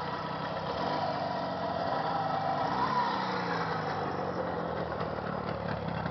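A Jawa 638 motorcycle engine runs on a test, giving a steady, fairly quiet mechanical drone with a mild rise and fall midway and no voices.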